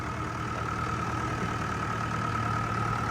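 A village tractor engine drones and idles continuously with a constant hum, close and unchanging throughout.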